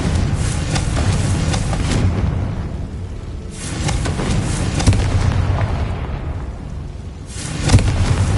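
Repeated booming spell blasts from the Confringo fire spell in Hogwarts Legacy, several loud bursts landing one after another over a dense rumbling game soundscape of combat and magic effects.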